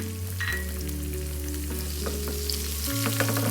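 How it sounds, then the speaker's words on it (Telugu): Mustard seeds, cumin, chana dal and green chillies fry in hot oil, giving a steady close sizzle with light crackles and stirring, alongside a sustained background tone. "పోపు గింజలైన ఆవాలు జీలకర్ర శనగపప్పులు కూడా వేసి ఫ్రై చేసుకుందాం"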